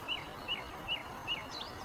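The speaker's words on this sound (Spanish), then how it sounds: "Zarcero políglota." A melodious warbler sings a short phrase of four evenly spaced, high, thin chirped notes, clear but fairly quiet against a soft, steady outdoor background hiss.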